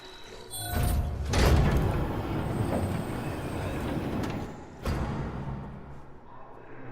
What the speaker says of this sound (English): the very loud doors don't even attract the sound-sensitive lickers